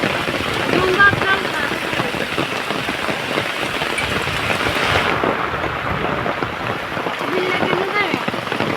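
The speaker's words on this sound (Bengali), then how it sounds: "প্রচন্ড তীব্র বেগে বৃষ্টি হইতেছে।" Heavy rain pours down steadily in a village, a dense, loud, continuous hiss and patter on surfaces with occasional low rumbles, filling the whole stretch without a break.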